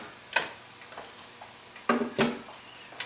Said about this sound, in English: Stir everything.